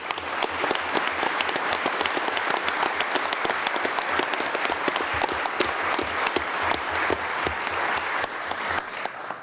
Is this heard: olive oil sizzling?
no